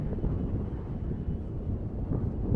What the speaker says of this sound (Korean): 여기로 바람이 올라오면서 이상한 소리를 냅니다